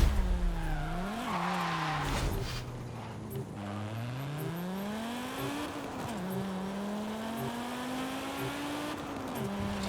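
Audi Quattro rally car in Forza Horizon 5, its engine droning steadily with rising and falling revs through gear changes, plus brief tyre skids near the start, close and continuous throughout.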